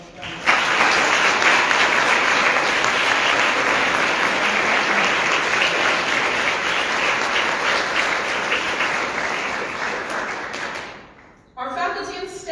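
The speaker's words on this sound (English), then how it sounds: "So give all of yourselves a round." An audience at a university theatre and dance awards ceremony breaks into sustained, dense applause for about eleven seconds, fading out before a voice resumes speaking.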